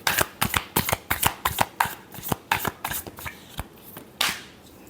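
Tarot cards shuffle by hand in a quick run of crisp riffling slaps, about a dozen close, sharp bursts in steady rhythm, ending with a softer sweep.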